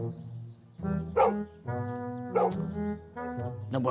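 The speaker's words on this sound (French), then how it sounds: "N'aboie plus." Cartoon dog barking in a series of loud, close bow-wow barks in three bursts, each with a yelping peak, heard alone without talk.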